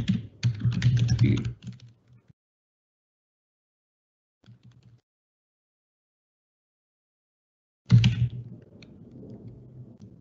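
Typing on a computer keyboard: a dense burst of close key clicks for about two seconds, a brief soft patter midway, then another run of keystrokes after a long silence.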